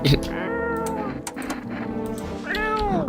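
A cat in the video game No I'm Not A Human meows several times in drawn-out, rising and falling cries, close and loud, with speech mixed in among them.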